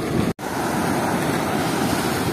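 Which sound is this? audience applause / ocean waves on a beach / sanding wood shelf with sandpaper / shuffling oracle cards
ocean waves on a beach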